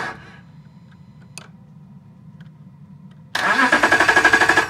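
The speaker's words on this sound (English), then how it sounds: "It's turning over the starter, but there's something that won't allow the truck to start under normal circumstances" A 2012 Dodge Ram 1500 Sport with a no-start fault has its starter engaged by hand with a screwdriver. After quiet clicks, the engine suddenly cranks loudly in a rapid, rhythmic chugging that continues without catching.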